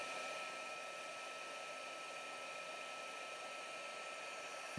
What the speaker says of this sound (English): I'll take the heat gun here.